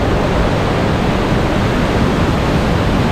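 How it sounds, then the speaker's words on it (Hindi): Heavy, fast-flowing water of the Baitarani river rushing over rocks, a steady loud broadband roar filling the whole clip with no pauses. "पानी का फ्लो बहुत हैवी है"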